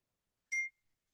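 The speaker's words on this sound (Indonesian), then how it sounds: "Supaya alarmnya bunyi." A single short electronic beep, brief and fairly faint, in otherwise near silence.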